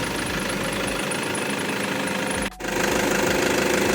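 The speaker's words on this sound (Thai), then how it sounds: "เครื่องดีเซลนะเครื่องแห้งๆเลยนะครับเสียงเพราะมาก" The 3.0-litre diesel engine of a 2013 Toyota Fortuner idles steadily up close, a dense low rumble with a rhythmic knocking clatter, briefly dipping for a moment before resuming.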